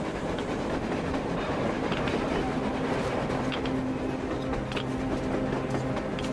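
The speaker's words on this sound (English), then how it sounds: "A train! A damn train on the surface!" A train rolls past in the Metro Exodus video game, a continuous rumbling clatter of wheels on rails with a low droning hum, steady and fairly distant throughout.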